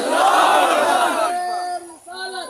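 Large crowd roaring a loud collective slogan response at a religious gathering, a massed shout of many voices that swells and then breaks into scattered fading calls.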